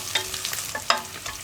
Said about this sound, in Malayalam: ഇഞ്ചിയും പച്ചമുളകും വെളുത്തുള്ളിയും ഒന്ന് ചൂടായി വരണം